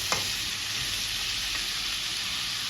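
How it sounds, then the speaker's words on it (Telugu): Oil frying in a pan gives off a steady, even sizzle that stays soft throughout, with a single light tap at the very start. "ఆయిల్ వేసుకొని అయితే ఇప్పుడైతే వేయించుకుంటున్నాను."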